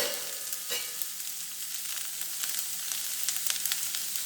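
Green beans sizzling in a hot pan while being stirred, a steady bright crackle with scraping stir strokes throughout, no voices.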